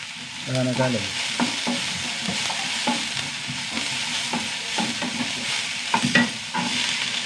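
Sliced onion and green chillies fry in a pan with a close, steady sizzle, broken by repeated scraping stirs of a spatula.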